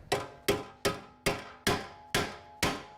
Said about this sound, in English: Pickle fork goes in between the control arm and the knuckle.